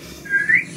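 A single short whistle rises in pitch over less than a second, clear and fairly close, sounding alone above a faint background.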